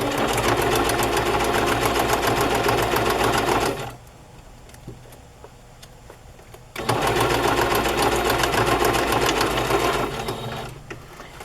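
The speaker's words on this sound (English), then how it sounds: "I'll sew it on there and then cut off the excess. Put it back on zigzag." A sewing machine zigzag-stitches fabric in two loud, steady runs, with a short quiet pause between them and the motor fading near the end.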